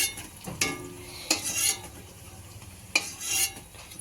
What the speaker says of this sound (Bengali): এই বড়াগুলো ভাজা হয়ে গেছে এগুলো তুলে নেওয়া হচ্ছে